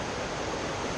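River water churns steadily in a rocky pool at Gorges State Park, North Carolina, a dense, continuous rushing roar close by with no voices.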